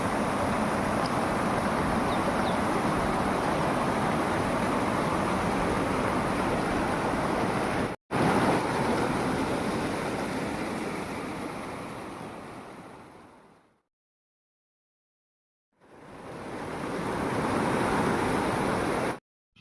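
Rushing water of the Tungabhadra river, a steady, loud broadband wash with a brief cut, fading to silence before returning, no voices.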